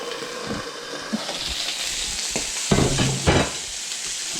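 Steak sears in a hot pan with a steady broadband sizzle throughout, punctuated by a few louder crackling spurts and handling clatter near the end.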